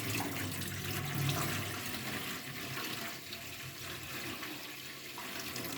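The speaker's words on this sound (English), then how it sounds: "So we want to just take out the excess water" Excess water poured off settled corn slurry for homemade agidi, a soft continuous splashing trickle of liquid lasting several seconds, faint and steady with no voices.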